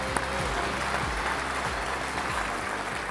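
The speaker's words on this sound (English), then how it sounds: "Round of applause, ladies and gentlemen." Steady, dense applause from an audience at a GAA awards ceremony at Croke Park, clapping filling the space evenly throughout at moderate volume with no voices standing out.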